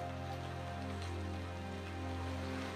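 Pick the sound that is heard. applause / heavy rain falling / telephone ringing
heavy rain falling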